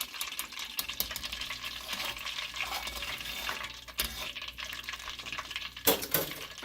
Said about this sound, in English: Alright, so we're just going to continue on frying.